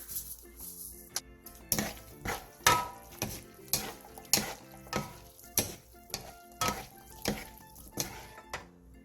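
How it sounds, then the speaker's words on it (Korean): Fish cake japchae with paprika and green pepper is lightly tossed with syrup, sesame oil and sesame seeds in a pan, giving a dozen rhythmic scraping and clattering strokes over a faint sizzle, close and fairly quiet. "마지막으로 올리고당 반 스푼, 참기름 반 스푼, 통깨를 넣고 가볍게 뒤적여 마무리해주세요"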